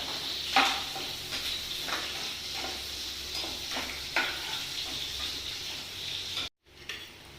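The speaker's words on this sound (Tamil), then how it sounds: "வெங்காயம் நல்லா வதங்கிடுச்சு" Large onions sauté in a pan for an egg gravy, with a steady close sizzle under repeated spoon stirs and scrapes, then a brief drop to silence near the end.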